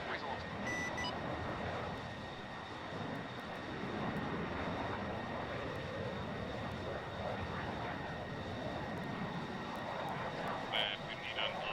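An aircraft runs up for takeoff, its engine a steady broadband roar that holds loud and even throughout, with faint radio-style voice chatter underneath.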